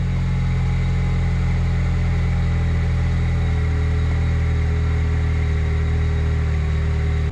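A 21-year-old Camaro engine idles steadily after a remote command start, producing a close, constant low rumble with a droning hum that holds even throughout.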